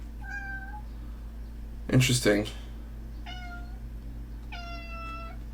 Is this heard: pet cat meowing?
yes